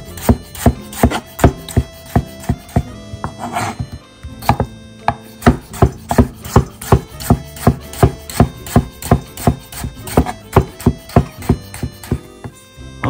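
A knife cuts a washed tomato into thin slices on a board for a red cabbage salad, giving steady, close, crisp chops in a regular rhythm with only brief pauses.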